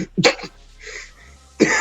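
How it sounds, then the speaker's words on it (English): A single short cough bursts out close by, followed by a quiet throat-clearing rumble and another brief cough at the end. "excuse me, I got to get that cough out"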